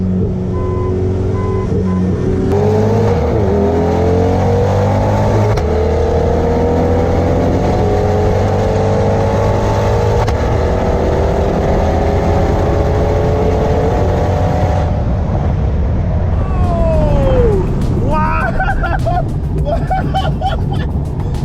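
A Corvette C8 and a Ferrari 488 Spider race each other, with steady loud engine drone and rising whine as they accelerate hard, a shifting pitch sweep near the end, and faint voices in the background.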